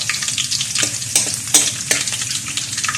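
Ginger fries in a pan for bopis, a steady close sizzle broken by a few sharp scraping stirs of a utensil against the metal.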